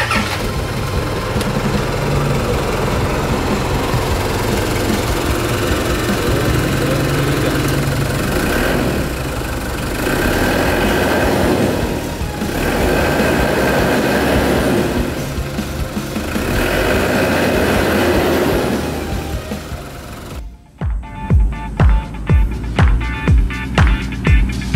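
A Toyota Mega Cruiser's engine is heard for about twenty seconds as a steady, loud, rough rumble, then drops into a pulsing idle with distinct, evenly spaced beats over the final few seconds.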